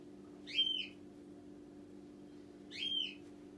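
Two clear whistled phrases from a pet bird indoors, separated by a long pause, soft and fairly close against a low steady hum.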